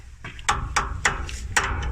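A hammer strikes a seized metal part on a boat in four sharp, evenly paced blows close by, each with a brief ringing decay.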